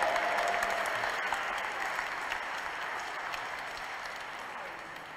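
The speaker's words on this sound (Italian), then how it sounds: "E un applauso." Sustained audience applause fills a church during a Catholic Mass honoring Venerable Francesco Convertini in the San Giorgio Martire parish of Locorotondo, a dense steady patter of many hands that slowly tapers over five seconds.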